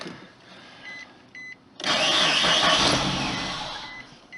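A 2006 Suzuki Aerio, with the air box off and some electronics not fully hooked up after a water pump replacement, cranks with brief starter bursts and then whirs into a loud, sustained engine-like roar that slowly fades, heard up close.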